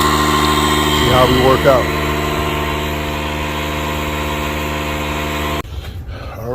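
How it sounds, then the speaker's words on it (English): A portable electric air pump hums steadily while inflating a flat tire on a Tesla Model Y, a loud droning tone that cuts off near the end, with someone talking over it. "I'm pumping up the tire now."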